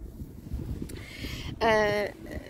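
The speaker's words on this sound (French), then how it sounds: "Je ne sais pas si vous allez m'entendre avec tout le vent qu'il y a." Outdoor wind rumbles and buffets the microphone in a low, gusty roar, with a voice speaking over it and a brief tonal whine near the end.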